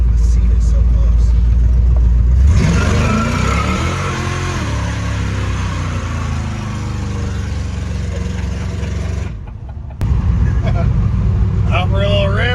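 A truck engine revs hard for a burnout, with a loud, sustained roar that drops briefly near the end before picking up again, while excited voices talk over it.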